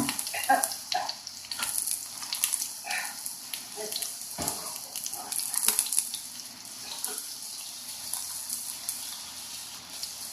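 Very hot oil sizzles in a pan while breakfast is cooked, a close, steady crackling hiss that runs the whole time with small pops and no talking.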